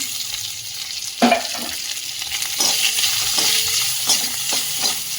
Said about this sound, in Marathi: बटाट्याच्या फोडी थोडी परतून घेऊयात तेलामध्ये